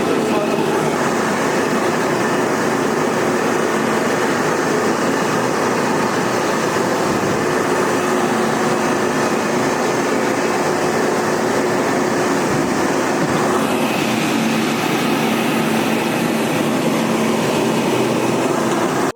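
A mini rice polisher runs continuously while dehusking paddy, making a loud, steady mechanical rumble and whir close by, with someone speaking over it.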